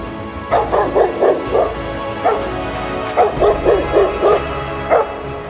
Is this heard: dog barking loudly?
yes